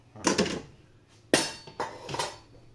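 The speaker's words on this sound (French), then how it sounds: "on va juste mélanger nos ingrédients. Et on va y mettre hop, nos pâtes" Cooked pasta and ingredients being stirred in a dish make several clinking, scraping knocks of a utensil against the dish, in three or four short bursts separated by brief pauses, close by and with no talking.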